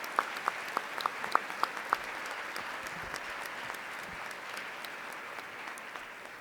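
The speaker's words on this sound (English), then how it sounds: "let's give a round of applause to the Girard family" An audience at a board meeting claps in a steady, moderate round of applause that fills the room, with a few sharper individual claps standing out at the start.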